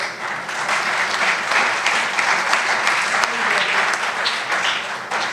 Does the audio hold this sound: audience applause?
yes